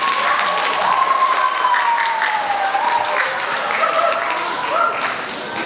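An audience at a school debate between Year 9 students and teachers claps for a speaker, a sustained round of applause with a faint tonal squeal running through it and some crowd murmur.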